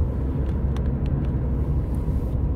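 Steady low rumble of a car in motion at night, recorded on a Samsung Galaxy S7 phone from inside, with constant road and engine noise and a few faint ticks above it.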